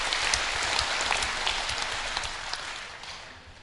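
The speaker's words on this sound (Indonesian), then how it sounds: "Kita berikan aplaus ini." Audience applause at the closing ceremony of a national education conference, a dense, steady wash of clapping that carries throughout and tapers slightly toward the end.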